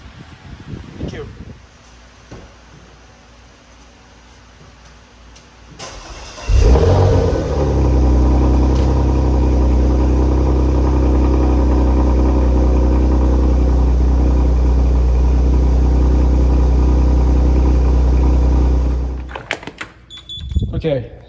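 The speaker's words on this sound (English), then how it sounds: "we'll try the car in a few positions and cold starts and see if this does the trick" A Porsche Macan with a smoking-on-startup fault cold starts after a quiet stretch, then holds a loud, steady revving engine roar for about twelve seconds before cutting off, alone without talk.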